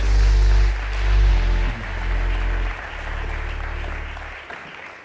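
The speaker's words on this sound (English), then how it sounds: "Offer a round of applause." An audience at the DesignEuropa Awards 2025 ceremony in Copenhagen applauds with sustained, dense clapping that stays loud throughout, then begins to taper off at the end.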